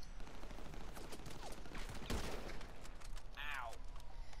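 A single sharp sniper rifle shot rings out in GTA V, standing clearly above a busy game soundscape with scattered other noises, and a short voice is heard afterward.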